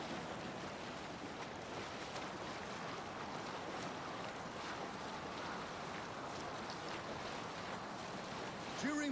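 A sailing ship cuts through ocean waves in Assassin's Creed Valhalla, with a continuous rushing wash of surf and wind that stays steady throughout.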